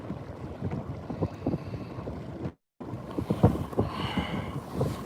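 Wind blows across open water around a boat, giving steady buffeting microphone rumble with water slaps, broken by a brief dropout midway before resuming.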